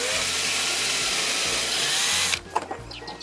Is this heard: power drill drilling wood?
yes